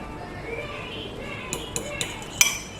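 A utensil clinks against a bowl while food is mixed at home, several light, sharp taps and scrapes scattered over a quiet room background, growing more frequent toward the end.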